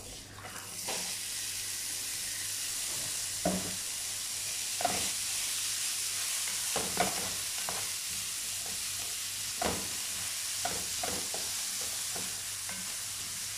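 Chopped onion goes into hot oil already frying cashews and pine nuts, giving a steady close sizzle with a few scrapes of a stirring spoon and no voices.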